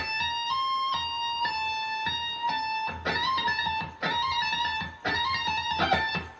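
A slow electric guitar legato lick plays smooth connected notes, picked then slurred with hammer-ons and pull-offs, in a steady unhurried phrase with no talking.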